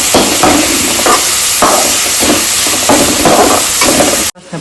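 Onion, capsicum and ginger garlic paste sautéing in a pan for a soya chunk gravy, a loud continuous sizzle with rhythmic stirring swells, cutting off abruptly near the end.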